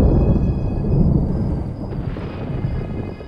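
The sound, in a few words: thunderstorm thunder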